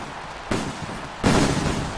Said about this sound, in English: Fireworks going off.